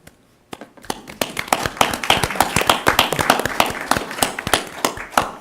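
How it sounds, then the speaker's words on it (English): A small audience at a school board meeting claps for law enforcement representatives: a sparse, uneven round of individual hand claps, close and distinct, building briefly and then thinning out. "can we give the law enforcement representatives a round of applause?"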